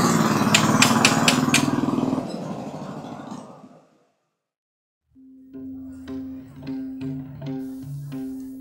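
A Royal Enfield motorcycle engine thumps and revs loudly up close with rapid firing pulses, fades to silence, then returns as a steadier, lower idling thud with pitch shifts.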